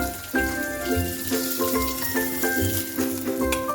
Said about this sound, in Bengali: মাছ ভাজা হয়ে গেছে আমি এবার তুলে নিচ্ছি এরকমভাবে আর এই মাছ একটু আস্তে আস্তে ভাজতে হয়